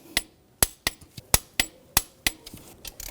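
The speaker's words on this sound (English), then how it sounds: "Now we're going to torque these bolts to 25 foot-pounds." Metallic clicks and taps from a torque wrench working the water pump pulley bolts on a 2006-2010 BMW 550i engine, about nine sharp, close impacts spaced irregularly, with no talking.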